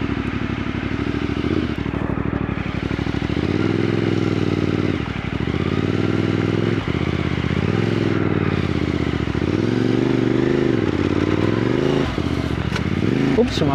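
A CFMOTO 450MT motorcycle rides an off-road enduro track with a steady, close engine drone that dips and rises as the throttle changes. Scrapes and clatter from the rough ground come through, and a rider talks briefly over it.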